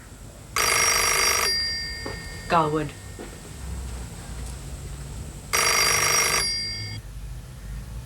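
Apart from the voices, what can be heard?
telephone ringing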